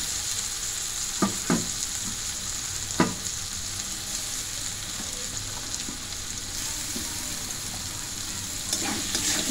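Masala paste and chopped carrots fry in a pan with a steady, even sizzle, broken by a few sharp scrapes and clacks of stirring near the start and end, close and fairly quiet, with no one talking.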